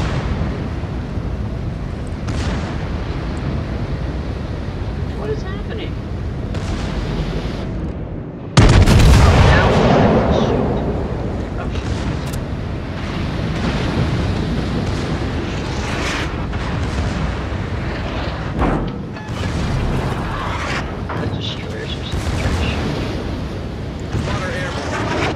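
Tirpitz battleship main guns fire in a World of Warships naval battle, one heavy booming salvo bursting out about a third of the way in over continuous game noise and engine rumble, with talk throughout.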